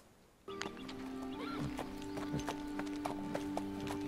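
Horse hooves clip-clop in a steady rhythm, fairly close, with a low hum and some tonal background sounds underneath.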